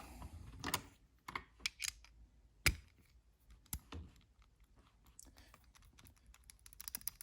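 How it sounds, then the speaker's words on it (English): A Kobalt socket from a budget 50-piece tool set pressed onto a ratchet: a few sharp, close metallic clicks and taps, quiet, with light handling noise between them. "Let's see how the socket fits on the ratchet."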